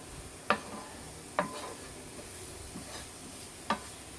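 A spoon scrapes and taps in a pan at a slow, irregular pace, four distinct clinks over a faint background hiss, while a sweet kozhukattai stuffing is mixed with cardamom powder; no one speaks.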